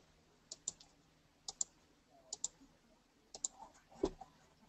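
Computer mouse clicks come in quick pairs, four or five double clicks spaced evenly, crisp and close in a quiet room.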